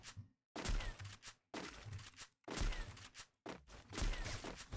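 Rapid bursts of gunfire from the Free Fire battle royale game, in a one-on-one match, arriving in four loud volleys separated by brief silences, with no talk.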